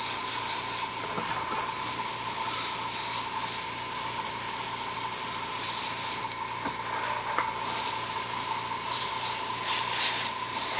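Steady airbrush hiss as Vallejo primer is sprayed onto a 1/48 scale Tamiya model kit, a continuous close, even spray with a brief change in tone partway through.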